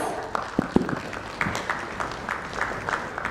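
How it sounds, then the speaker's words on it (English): Audience at an insurance industry summit and awards event applauds to welcome a speaker: scattered, uneven claps from a medium-sized hall, moderately loud and thin, with no talking over them. "Please welcome Mr. Charanjit Atra, partner EY, with a huge applause"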